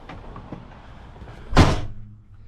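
A door swings shut with a single solid thud about two-thirds through, loud and close, following a few faint handling clicks and shuffles, then settling into quiet.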